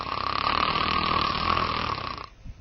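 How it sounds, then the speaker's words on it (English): Loud, steady snoring with a strong buzzing upper-airway vibration, heard close and alone for about two seconds as the vibration and loudness build within a single breath, then cutting off abruptly. "Breath by breath, the frequency of the upper airway vibration increases along with the loudness of the snoring."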